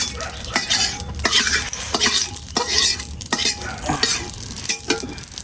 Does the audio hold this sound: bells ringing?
no